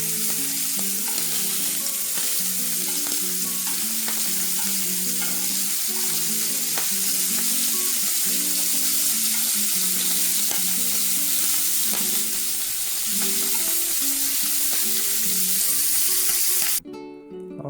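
Lightly seasoned shrimp fry in a pan with a steady, close, broadband sizzle that holds for the whole stretch under background music, then cuts off abruptly near the end.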